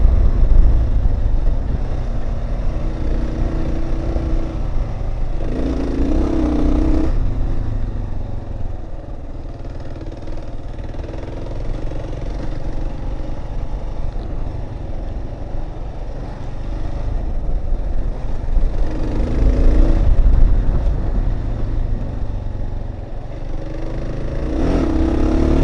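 A Kawasaki KLR650 motorcycle engine rumbles steadily while riding a rough, rutted and rocky muddy road, with louder clattering bursts as the bike bounces over bumps.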